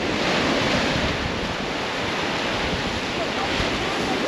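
Sea surf at Jastrzębia Góra on the Polish Baltic coast, a steady, loud broadband wash of waves rolling onto the shore with wind buffeting the microphone throughout, no voices.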